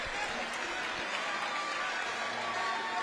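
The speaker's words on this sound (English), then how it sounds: "It was, and the crowd loved it as well. Listen to them." A boxing crowd at York Hall in London cheers and applauds continuously after a fight, a dense, steady roar of clapping and voices filling the hall.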